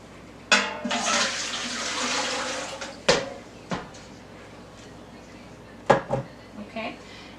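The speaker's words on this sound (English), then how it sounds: "then you're going to put your water into the pot" Water splashes and pours into a cooking pot for a couple of seconds, followed by a few sharp clunks and knocks of cookware nearby.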